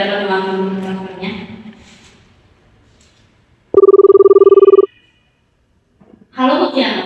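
Telephone ringtone in an office during a phone call, a single steady burst of a little over a second in a quiet pause, preceded and followed by talking.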